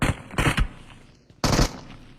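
Video game gunfire in a retro game challenge run: two loud automatic bursts, rapid close shots separated by a short lull, with no talk.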